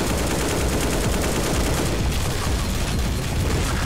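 Kalashnikov rifle fire in Garry's Mod, a relentless rapid stream of close, loud automatic shots with no pauses.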